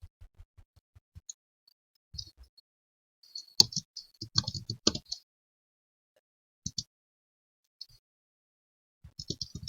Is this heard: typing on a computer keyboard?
yes